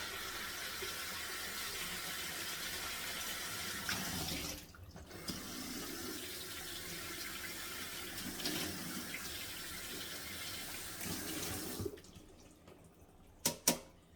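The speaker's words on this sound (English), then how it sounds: "Next one, let's give this a rinse." Tap water runs steadily into a sink while a truffle mould is rinsed, a close, continuous splashing flow that shifts in tone as the mould is moved, then stops, leaving quiet clinks and knocks.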